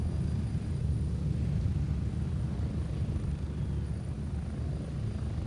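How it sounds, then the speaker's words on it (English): Helicopter flying in a Gray Zone video game, a loud continuous rotor rumble with a deep churning throb, steady and close. "We're going to take the chopper here and hit up a house that has some pretty decent loot."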